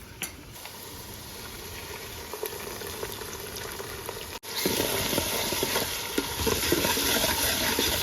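Ginger-garlic paste dropped into a hot pan that already holds onions, giving a steady sizzle that turns sharply louder and more crackly partway through, then keeps frying evenly.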